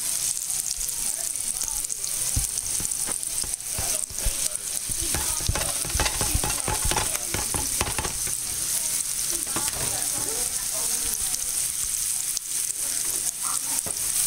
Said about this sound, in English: Here's my onion sauteing.